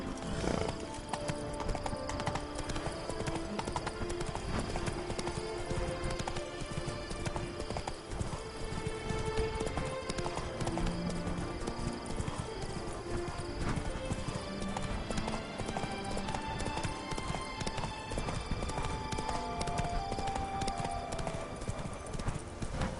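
Roach the horse galloping in The Witcher 3, a dense, fast drum of hooves mixed with snorts, running steadily throughout beneath a bed of game music and ambience.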